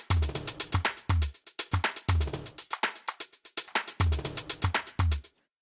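Unprocessed top-end drum loop with a ZMP123 snare clap, built for downtempo production: a busy, steady groove of crisp hi-hats and sharp claps over punchy low kicks, repeating in a tight pattern before stopping abruptly.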